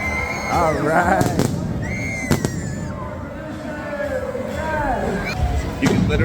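Fireworks pop and bang sharply a few times at a Christmas tree lighting ceremony at The Grove while a crowd cheers, whoops and chatters excitedly throughout.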